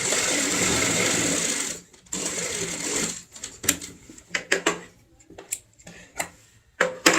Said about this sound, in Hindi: यहाँ से सिलाई करेंगे, तरीका सेम होगा, और जो हमने निशान लगाया है उस पॉइंट तक ही सिलाई लगाएंगे